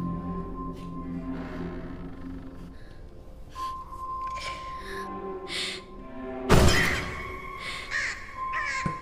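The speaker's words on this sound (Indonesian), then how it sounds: "Seekor burung gagak menabrak kaca rumah, pertanda maut telah datang." A crow crashing into the glass of a house window: raspy caws over a steady droning backdrop, then one sudden loud impact burst followed by more scattered calls.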